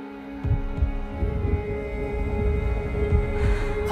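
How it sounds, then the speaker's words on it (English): Deep heartbeat in the video game Senua's Saga Hellblade II, slow muffled thumps throbbing under a sustained dark hum, close and steady, with no voices. "The heartbeat of the lost ones."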